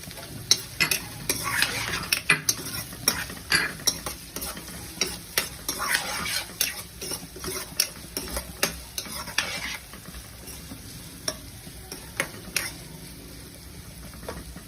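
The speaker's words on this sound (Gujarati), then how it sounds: "આપણે મરચાં એડ કરી દઈશું જે સમારેલ છે તે।" Chopped chillies sizzle and fry in a pan for masala bread while a spoon stirs and scrapes in quick irregular strokes, close and moderately loud, with no one talking.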